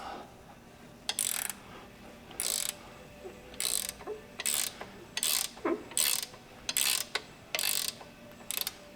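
A ratchet loosens the hardware on a 1957 VW Beetle front beam: about ten sharp rasping bursts of clicking, close up and evenly spaced, with short pauses between them and no talking.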